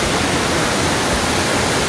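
Loud, steady roar of a Georgia waterfall heard up close, a dense continuous wash of falling water with no voices over it.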